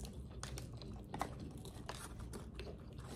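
Crunchy, lightly seasoned food being chewed close to the microphone at a restaurant in Dubai, with repeated soft crunching bites throughout and no talking.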